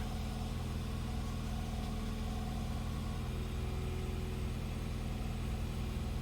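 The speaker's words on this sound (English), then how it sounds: "So just let the car warm up a little bit and then let it idle." A Toyota Yaris Verso 1.3 engine idles steadily around 1200 rpm with an idle control valve fault, a constant low rumble with a faint mechanical whine above it, with no voices and no change in revs.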